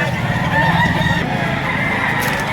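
A rooster crows loudly and close by at a chicken market in Lipa, Batangas, one drawn-out call over a busy background of other fowl and outdoor noise.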